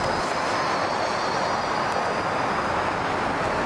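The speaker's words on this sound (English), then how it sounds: "Here the train is arriving at the station." A Washington DC Metro train pulling into a station, a continuous loud rushing roar with a faint high whine, steady throughout and no voices.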